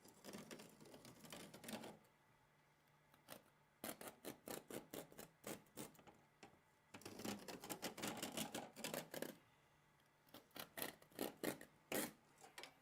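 Drywall is scored along a T-square, giving fast, repeated scraping strokes in three bursts separated by short pauses. The strokes are close but fairly quiet.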